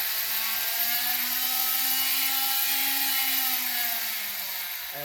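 Milwaukee 12-volt variable-speed sanding machine working over a camper body, a steady close, high-pitched whine with a constant tone that holds throughout and eases slightly at the end, with no talk.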